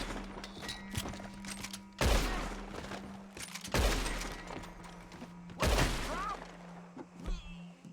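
Gunshots in the video game Red Dead Online: three loud, sharp blasts spaced about two seconds apart, each with a short ringing tail, over a low steady hum and lighter clicks.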